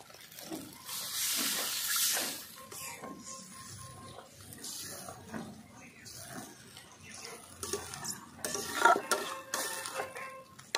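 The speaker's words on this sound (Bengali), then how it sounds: "ভালো করে ভাজা হয়ে গেছে, মশলা দিয়ে তেল ছেড়ে দিয়েছে, এবার দিয়ে দেবো জল।" Water is poured into spice paste frying in oil for a Bengali prawn malaikari, setting off short bursts of hissing steam amid pan and utensil clatter, with a voice speaking between the sounds.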